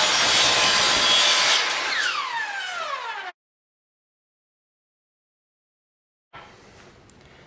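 A hand saw cuts wooden nunchuck pieces with steady, loud, close rasping strokes, then goes quiet for several seconds before a softer scraping resumes.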